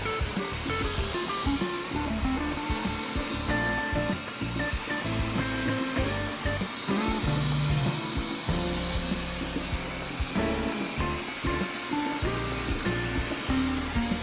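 A Wyze robot vacuum cleaner runs indoors, giving a steady, close motor whir with brushy rubbing and scraping textures that continue unbroken for the whole stretch.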